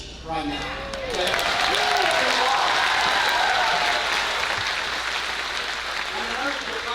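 Audience applause at a middle school band Christmas concert: a brief spoken voice at the start gives way to a full, sustained burst of many people clapping that continues steadily, tapering only slightly toward the end.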